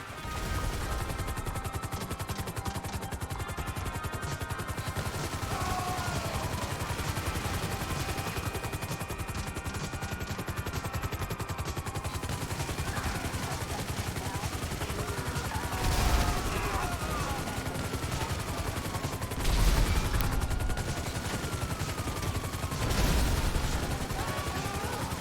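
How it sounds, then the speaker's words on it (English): Rapid automatic gunfire from an Annihilator attack helicopter in GTA 5 Online, a continuous loud fusillade over steady rotor and engine noise, with a few heavier bursts standing out. "you have to hold down the fire button for a little longer before the guns actually start shooting"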